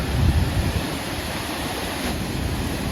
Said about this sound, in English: This is the best waterfall I have ever seen.